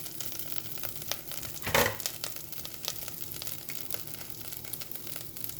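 Cumin seeds (shahjeera) sizzling in hot oil in a pan while cooking bendakaya curry, a steady close crackling fry with a brief louder burst of sizzle as the seeds hit the oil, then continuing fizz.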